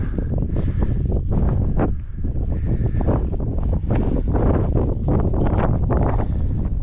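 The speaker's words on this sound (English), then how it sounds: "I'm sure you can hear that wind." Strong wind gusting across the microphone on a steep volcano hiking trail, a loud buffeting roar that rises and falls throughout with no clear talk over it.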